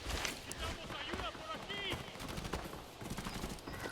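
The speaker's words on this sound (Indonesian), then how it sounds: "Tembakan pun terus terdengar" Rapid bursts of gunfire in the video game Arena Breakout crackle in the distance, with scattered shots and a voice talking over them.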